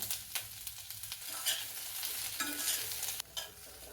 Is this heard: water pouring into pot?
no